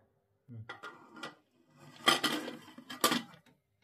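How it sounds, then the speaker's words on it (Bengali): A pressure cooker holding washed yam pieces set down on a gas stove, giving a few close metallic clanks and knocks in quick succession, with no talk. "এবার এটাকে সেদ্ধ করার জন্য বসিয়ে দিচ্ছি।"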